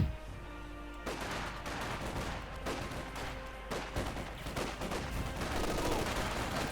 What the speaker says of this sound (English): Machine gun fire, Panzer's pushing in.